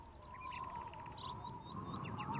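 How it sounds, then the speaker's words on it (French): Birds in a cartoon garden give scattered light chirps and tweets over a faint steady hum, soft and at a slight distance, ending in a sudden brighter burst. "Là, les oiseaux sont revenus."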